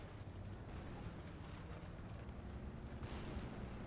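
A tank gun firing through a house in War Thunder, German 6.7 battle, sits as a steady heavy rumbling bed of battle noise with sharper blasts standing out near the middle and end.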